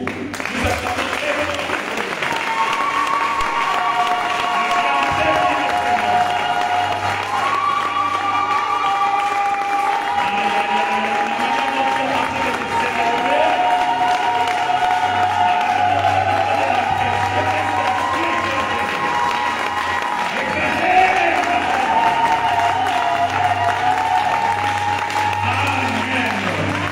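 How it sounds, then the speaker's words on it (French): A church congregation applauds and cheers at length for a visiting prophet standing before them, loud continuous clapping and shouts over steady music with sustained tones throughout. "Pendant qu'il se tient debout, nous acclamons."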